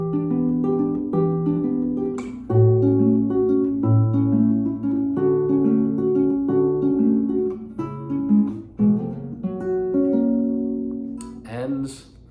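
Guitar plays the opening of a song as a full fingerpicked passage of ringing, overlapping notes, close and steady for about twelve seconds, with a brief scrape near the end.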